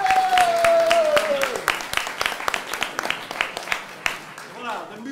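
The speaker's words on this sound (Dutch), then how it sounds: "Geef Claudine een applaus aan." Studio audience clapping in a Dutch blind-date game show, sharp separate claps building into scattered applause, with a rising sung or shouted tone at the start and voices mixed in.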